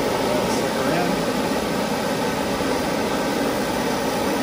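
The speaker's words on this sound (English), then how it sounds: "That's just the fan blowing." A Mr. Heater garage heater's fan blows with a steady, broad whooshing hiss in a small garage, constant and fairly loud, with no change in rhythm.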